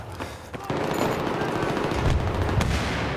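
Machine gun fire in the multiplayer shooter Battlefield 3, a loud continuous rattle of rapid bursts with sharper shot cracks standing out, heard close amid game noise.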